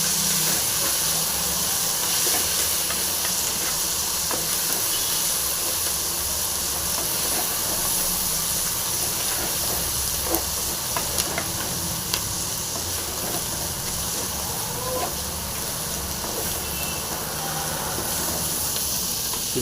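Onion, spring onion and curry leaves frying in a pan, producing a loud, steady hiss of hot oil that runs throughout with occasional light clicks of stirring.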